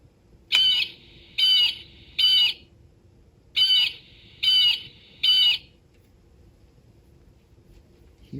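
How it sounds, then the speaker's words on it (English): A blue jay gives six harsh, loud, evenly spaced squawking calls in two groups of three, close and clear against a quiet background, then falls silent. "And here's the blue jay."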